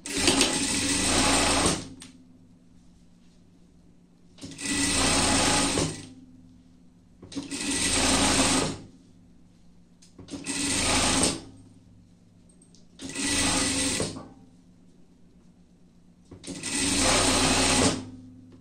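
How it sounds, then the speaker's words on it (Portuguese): A sewing machine runs a seam along a hood lining for a lion pet costume, whirring in six steady bursts of about two seconds each, with short quiet pauses between them. "vamos pegar o nosso forro do capuz. Passar uma costura daqui até aqui"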